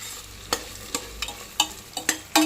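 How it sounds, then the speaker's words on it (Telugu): Cashews fried in ghee with whole spices for a spicy Andhra country-chicken biryani: a soft sizzle under a series of sharp stirring scrapes and clinks, roughly six or seven, close by and with no talk. "కాజు ముందుగానే వేయాలి నెయ్యిలోకి, మర్చిపోయాను, ఇప్పుడు వేసుకున్నాను."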